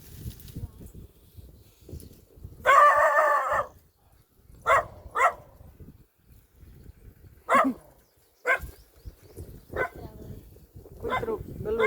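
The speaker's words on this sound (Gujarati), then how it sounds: "કૂતરો ગલોડિયો ભરે છે." A dog on a farm gives several short, loud barking bursts spaced a few seconds apart, with one longer raspy call near the start and a quieter low rumble underneath.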